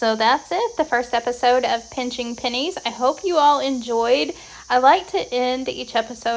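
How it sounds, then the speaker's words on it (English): Cicadas buzz in a thin, steady drone in the background, faint and continuous beneath a person talking throughout. "And are the cicadas overtaking your area?"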